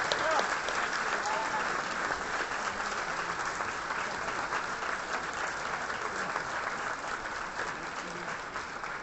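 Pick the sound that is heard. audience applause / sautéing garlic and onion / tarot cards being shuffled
audience applause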